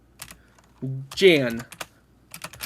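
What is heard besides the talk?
computer keyboard typing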